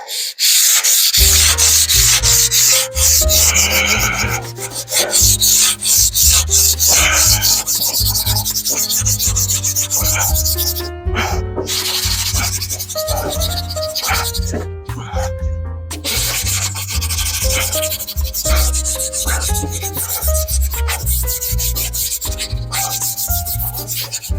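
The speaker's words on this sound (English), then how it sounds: "now we're just going to take some sandpaper. We're going to hit this lightly." Sandpaper worked by hand over a steel tailgate from a 1950 Ford F1 gives loud, close rhythmic rasping strokes, continuous with brief pauses, no voices.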